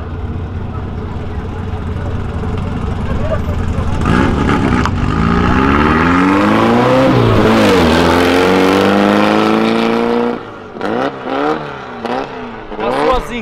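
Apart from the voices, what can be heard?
car engine revving as cars leave an event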